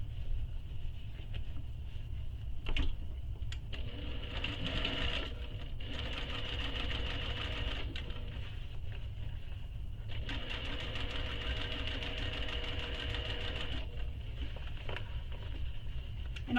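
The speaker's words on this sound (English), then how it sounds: "So we're going to top stitch all along this edge, right beside the gusset." A sewing machine top-stitches along the edge of a bag panel beside the gusset, running in bursts of fast, even needle chatter over a low motor hum, with short pauses between runs.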